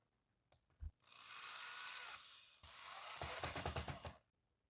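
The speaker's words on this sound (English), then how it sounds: "We're going to drill those in." A power drill whirs in two sustained bursts, the second ending with rapid chattering clicks as a screw drives home flush while mounting window blinds, close and alone.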